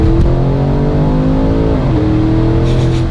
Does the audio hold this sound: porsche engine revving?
yes